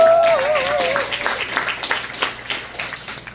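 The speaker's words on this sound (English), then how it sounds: "Give them a round of applause." Scattered audience applause at a high school jazz ensemble concert, starting over a fading sustained tone and settling into a thinner, uneven patter of clapping hands.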